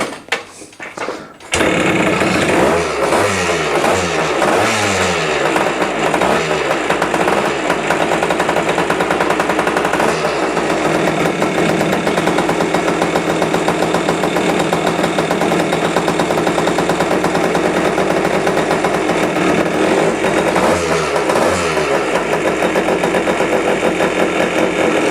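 CT2 motorbike engine with its carburetor still out of tune catches after a second or two of clatter, then runs steadily with a close, busy mechanical chatter that barely wavers.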